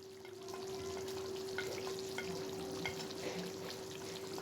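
Curry leaves and whole spices such as cumin, nigella, mustard seed, fenugreek, black pepper and fennel sizzle and crackle steadily in hot oil for an achari chicken or mutton curry, with scattered sharp pops over a constant frying hiss.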